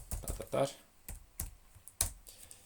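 Quiet, close computer keyboard typing while entering code for a Raspberry Pi motion sensor camera project: several soft irregular key clicks in short bursts, with some low voice under them.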